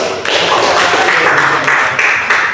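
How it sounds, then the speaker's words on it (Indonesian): Classroom applause from a group of students during a chemistry lesson, dense close clapping that stays loud and steady for a couple of seconds. "Kita beri aplaus juga."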